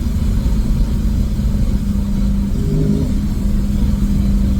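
A car fitted with an Apex'i non-resonated exhaust pulls hard, a loud, steady low engine roar and drone held close to the microphone.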